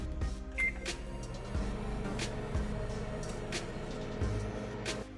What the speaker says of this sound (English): Put it in the microwave for 30 seconds at a time.